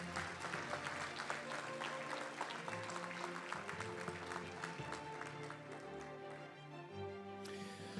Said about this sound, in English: How about a big round of applause for these guys?